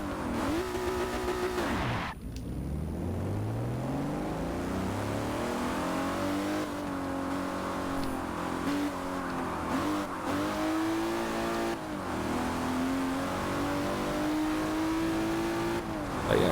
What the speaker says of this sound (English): Sound of that engine.